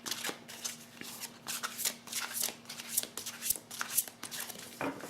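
Tarot cards are shuffled by hand in a quick, close riffling patter, with a steady rhythm of soft slaps and flutters.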